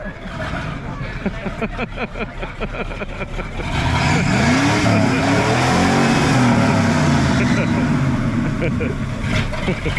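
An American car rolls up at a car meet in Kraków, its engine rising into a loud, close roar with a swelling rev that holds over the crowd. People talk excitedly throughout.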